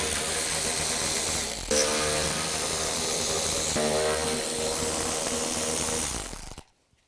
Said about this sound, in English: Now we're going to take these 4 screws out.